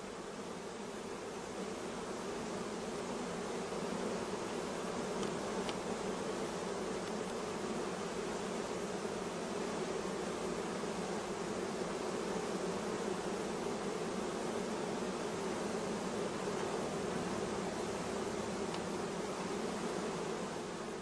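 Bees crowd over frames of brood lifted from a hive, making a dense, steady, even hum that runs without a break, close and alone.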